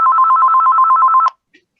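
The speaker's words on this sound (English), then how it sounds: "No, it's not our phone, it's somebody else's phone." A telephone rings with a steady, rapid electronic trill, loud and near, that cuts off abruptly, followed by a faint brief click.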